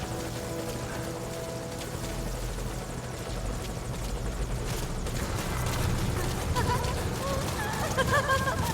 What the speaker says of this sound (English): Is that the helicopter? Can I hear that?